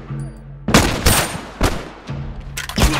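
Rifle gunfire in a video game: several loud, sharp bursts of shots in quick clusters, separated by short pauses filled with faint background hum.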